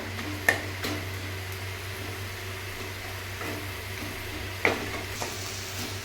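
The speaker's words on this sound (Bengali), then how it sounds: "বন্ধুরা মশলাটা আমি ভালো করে এবার কষিয়ে নেবো" Spice masala for chicken kosha sautés in a pan with a soft, steady sizzle under a low hum, broken by two sharp clacks of a utensil against the pan.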